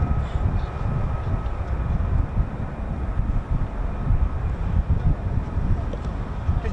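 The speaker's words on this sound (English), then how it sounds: "I think the F-15's coming back." F-15 fighter jet near RAF Lakenheath, a steady broad roar of jet engine noise that holds at a constant loud level throughout, with no voices.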